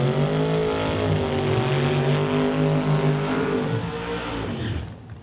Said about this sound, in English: Both drivers burning out way over the starting line.